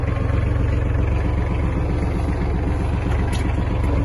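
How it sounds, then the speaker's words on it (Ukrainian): A diesel engine of an Iseki Geas TG253 Japanese mini tractor idles just after starting, a close, steady, rhythmic low chugging that continues evenly throughout. "та заведемо даний трактор"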